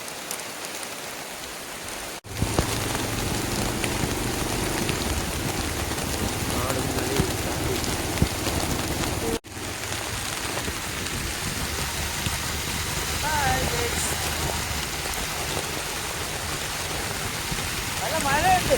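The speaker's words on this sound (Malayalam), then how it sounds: "നല്ല മഴയുണ്ട്." Heavy rain pours steadily on surfaces outdoors during a ride, a dense, unbroken patter that stops briefly twice. Indistinct voices are heard beneath the downpour.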